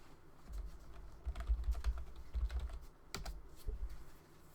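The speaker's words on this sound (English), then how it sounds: "Dwayne getting the last of the shuffling in" Magic: The Gathering cards shuffled by hand at a Modern tournament table, soft rapid riffling and tapping in short irregular bursts, close and fairly quiet.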